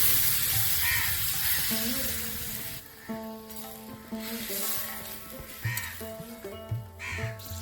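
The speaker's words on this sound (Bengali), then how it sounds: "আমি পরিমাণ মতো জল দিয়ে দেব" Water poured into a hot pan of sizzling greens, apparently potato leaves, sets off a loud hissing rush that settles into a quieter crackling fry, with tonal sounds in the background.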